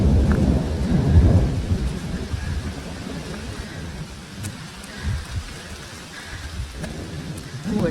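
Thunder from passing storms rolls low and continuously around a mountaintop near Mount Washington, with steady rain hiss and pattering drops throughout. The rumble swells strongest early, then lingers as a distant grumble.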